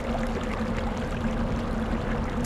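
Water pouring in the game Quest for Glory V, a steady close splashing trickle with a faint hum underneath, running continuously and alone.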